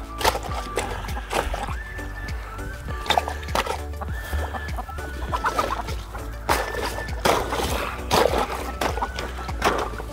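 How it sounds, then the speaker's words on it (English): Several ducks squawk and honk in repeated bursts close by, with a steady low rumble and some splashing underneath. "Hear these loud ducks."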